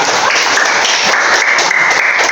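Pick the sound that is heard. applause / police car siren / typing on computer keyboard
applause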